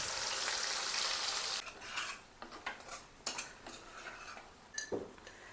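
Spice paste for dum aloo hitting hot oil with shahjeere, a loud sizzle at first, then a metal spoon scraping and clinking against the pan in short irregular strokes as it is stirred.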